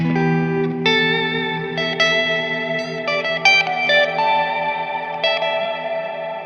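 An electric guitar lets sustained notes and chords ring out, bathed in a washy, echoing effect that smears each note into the next.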